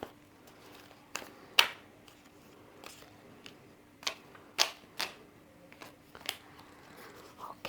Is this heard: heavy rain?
no